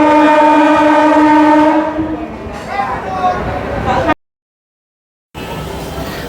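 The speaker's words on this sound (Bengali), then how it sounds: "আমঘাট স্টেশনে ট্রেনটি পৌঁছে" A train horn blares with a long tonal blast as the train rolls into Amghata station on the Amghata–Krishnanagar line, rumbling and clattering, then cuts briefly to silence before the rumble resumes.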